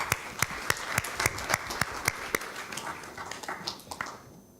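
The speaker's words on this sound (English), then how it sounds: "Please give him a clap." A small academic audience at a science policy plenary gives scattered applause. Distinct individual claps ring out sharply over a soft clatter, then thin out toward the end.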